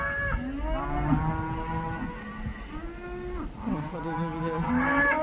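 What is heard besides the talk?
cows mooing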